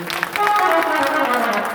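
Sustained loud applause from a crowd at a Shrimad Bhagwat Katha religious gathering, dense steady clapping filling the space with a voice faintly mixed in at the start.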